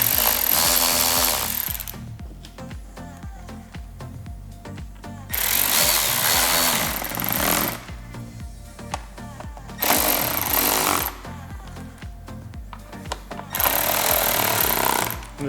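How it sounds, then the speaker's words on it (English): A power driver runs plastic screws into a speaker mount on a 2019 Harley-Davidson Street Glide. It whirs loudly in four bursts of roughly two seconds each, with quieter clicks and handling noise in the pauses. "I always like to start the screws and then tighten them up."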